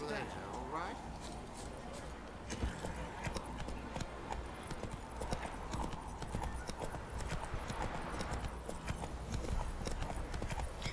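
A horse ridden in The Witcher 3: Wild Hunt video game clip-clops in a steady, continuous trot, close and clear, while a person talks over it throughout.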